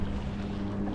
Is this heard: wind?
yes